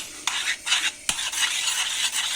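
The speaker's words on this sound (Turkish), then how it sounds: "Biraz karıştırıyoruz" Muhlama, a melted cheese and cornmeal dish, stirred in a pan with a utensil, giving soft repeated scraping strokes over a faint sizzle, with one sharp clink of the spoon against the pan.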